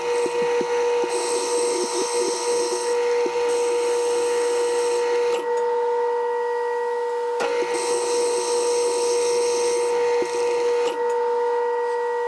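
Steady metal cutting on a worn front axle pin from an International 574 tractor, forming a chamfer: a continuous rasping, grinding drone with a bright whine that runs loud throughout, easing briefly twice between passes.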